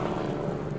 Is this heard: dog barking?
no